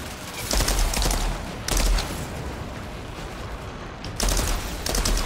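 Bursts of video-game gunfire from a gun in Outriders, a few loud rapid volleys separated by quieter gaps, with continuous battle noise underneath.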